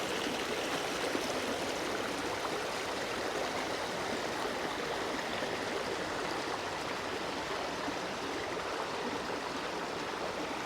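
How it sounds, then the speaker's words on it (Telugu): Stream water flows steadily at a forest spot in Maredumilli, a constant broad rushing wash with no breaks, moderately loud and close, alone without voices. "నాకైతే వాటర్ సౌండ్ వినిపిస్తుంది, కెమెరాలో రికార్డ్ అయిందో లేదో."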